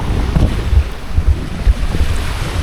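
Wind and waves while sailing a Hobie Cat 16 catamaran: strong, steady wind roars across the microphone while water splashes and slaps the hulls in uneven surges, loud and close, with no voices.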